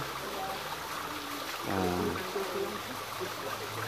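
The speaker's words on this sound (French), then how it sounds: "avec l'eau qui coule, la cascade" Water flows and tumbles down a small cascade at Chalice Well in Glastonbury, a steady, soft, broad rushing wash with a brief murmur of a voice in the middle.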